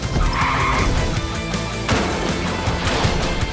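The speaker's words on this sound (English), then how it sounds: "Oh, there has been a crash, but we're okay." Cars in a taxi race skid and crash, with tyre screech and engine noise followed by a sharp impact, then more rumbling vehicle noise, loud and close throughout.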